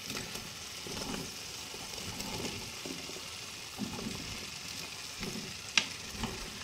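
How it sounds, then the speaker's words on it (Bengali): Jackfruit and potato pieces stirred into a spice paste frying in oil for a Bengali echor kalia, with a steady close sizzle broken by soft scraping stir strokes and a few sharp utensil clicks. "এখন আমি ভালো করে এটা মিশিয়ে নিচ্ছি।"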